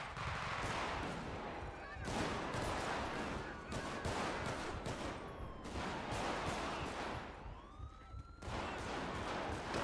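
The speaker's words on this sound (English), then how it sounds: "What the hell is the security guard shooting us for?" Rapid bursts of gunfire from a security guard ring out in Grand Theft Auto 5 with the LSPDFR police mod. The volleys are loud and repeated, separated by short pauses, and a siren wails through them.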